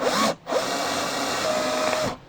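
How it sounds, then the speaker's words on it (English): A power drill bores holes through the curved ceiling of a Ford Transit campervan conversion, a steady high whine that stops briefly and then runs again for about two seconds, close and loud with no talking. "So if I drill here, then it should be okay."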